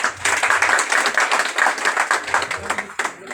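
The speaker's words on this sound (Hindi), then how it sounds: "भरपूर तालियां।" A crowd claps at a pigeon club prize ceremony, a dense, steady patter of many hands close by that runs throughout, with a voice faintly beneath it.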